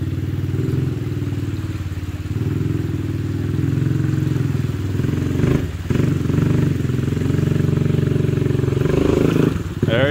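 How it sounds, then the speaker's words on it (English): A 2021 Honda Rancher ATV climbs a creek bank in first gear, its low engine chugging steadily and close by, with a brief rev surge partway through and some clatter near the end. "I think he could make it up that just fine if you just give it a little bit of momentum in first gear"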